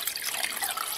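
Water poured from above into a solar-powered coffee brewer, a steady bright splashing trickle that runs for the full second without pause or voices.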